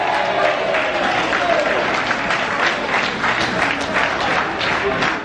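Football crowd in the stand at a Wingate & Finchley match applauding, a steady dense wash of clapping and crowd noise lasting throughout at a constant level.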